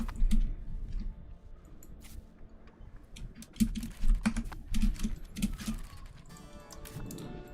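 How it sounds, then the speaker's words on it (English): Clicks from a computer keyboard and mouse come in short irregular clusters close by, sometimes quick runs of keystrokes and sometimes single taps, during a strategy game session. "also so much clicking"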